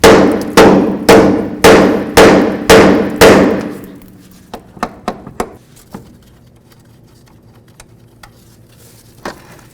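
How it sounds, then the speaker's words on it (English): Six loud metallic hammer blows land in a steady rhythm on a front upper control arm area of a 1998-2002 Honda Accord, then a scattering of lighter, quicker taps ring out against metal in a quiet space. "Now we're going to use our hammer and bonk right along this area here."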